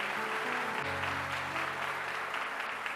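Congregation applauding during a church service, a steady dense wash of clapping filling the whole stretch with a low sustained tone underneath, likely organ or keyboard.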